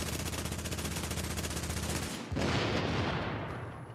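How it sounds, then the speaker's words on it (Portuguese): Rapid machine-gun fire in The Division video game, a dense continuous burst of shots that shifts in character partway through, loud and without talk. "deu uma rajada nele agora"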